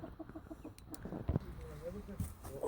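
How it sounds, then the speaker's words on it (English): Hens settled on their roosts for the night, giving a few soft, scattered clucks and low murmurs at close range amid quiet rustling, with a brief louder squawk near the end. "Quick check on the chickens."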